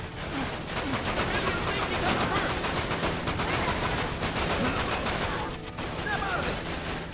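Sustained machine gun fire from a video game rattles loud and dense from start to finish, with only a short dip near the end and no talking.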